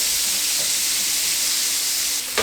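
Chopped onions hit hot fat and butter in a pan for smothered cubed steak, giving a steady, close, loud sizzling hiss that carries on evenly throughout, with no talking.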